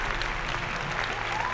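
Loud, dense audience applause rewards a correct answer at a Hindi Bible quiz competition, a short burst of continuous clapping with no voices over it.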